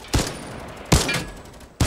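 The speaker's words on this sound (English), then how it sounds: "I'm just gonna shoot the turret from all the way back here" Three separate gunshots fired in Fortnite at a distant turret, spaced roughly a second apart, each a sharp loud crack followed by a short decay.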